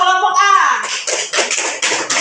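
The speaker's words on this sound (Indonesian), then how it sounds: "Tepuk tangan untuk kelompok A." A classroom of students applauds group A, a burst of steady clapping that follows a brief voice and fills the rest of the clip.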